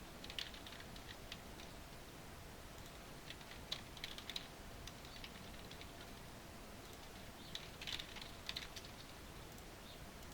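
Faint computer keyboard typing from a livecoding session on server code, with soft scattered clicks and a few short bursts over a low background hiss.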